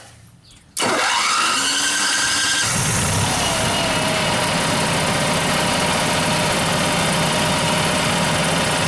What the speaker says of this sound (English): Generator's fixed.